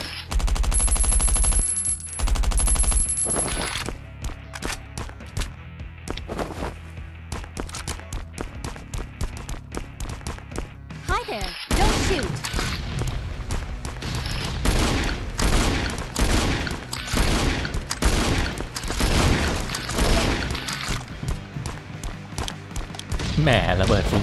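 Rapid bursts of explosions and gunfire in the survival video game Last Island of Survival, sparse at first, then dense, loud, overlapping blasts and cracks through the second half.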